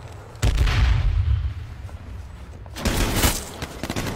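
Loud gunfire bursts out in the video game H1Z1, a dense volley of shots with heavy booms, pausing briefly before a second round of firing, with no talking.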